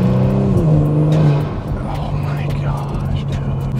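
A Kia Stinger's V6 with an MBRP exhaust revs briefly as the throttle is feathered, a raspy rising-then-falling engine note close by, with speech over it.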